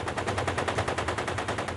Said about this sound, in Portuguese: tiros são disparados próximo ao palácio